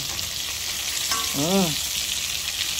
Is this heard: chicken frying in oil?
yes